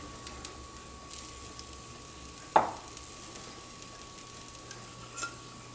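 Red beans and spices frying in a frying pan: a low, steady sizzle with a sharp clatter near the middle and a softer knock later, close by, with no talk.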